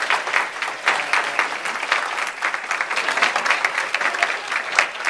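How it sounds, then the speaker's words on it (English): Audience applause in a standing ovation for graduates: dense, sustained clapping from a large crowd, loud and even throughout. "Will you join me with a standing ovation to the graduates"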